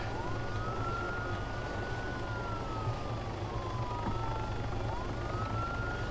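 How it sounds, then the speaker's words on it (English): A wailing video game police car siren rising and falling continuously over a steady engine rumble, fairly distant and unbroken throughout. "I'm killing my siren."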